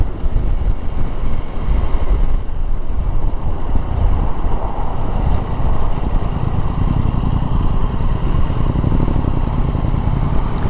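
A Triumph Tiger Sport 800 sport touring motorcycle is ridden, its engine a steady, loud drone buried under heavy wind rush across the whole stretch.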